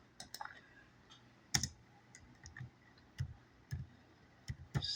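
Fingers tap on a computer keyboard in quiet, irregular bursts of clicks with short pauses between keystrokes, close and faint.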